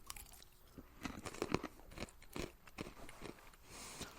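Salted roasted peas, a Mexican snack, crunched between the teeth: close, repeated crisp crunches in an uneven chewing rhythm, loud bites around the middle, with no talking.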